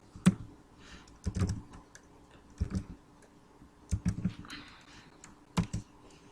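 Computer keyboard keys tapped in short clustered bursts with pauses between, as a product name like tomatoes is typed into an inventory program; close and fairly quiet, no talking.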